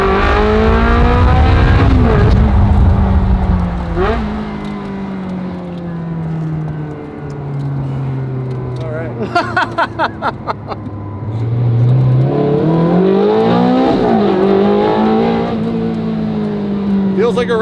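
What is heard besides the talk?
Ferrari V8 car engine accelerating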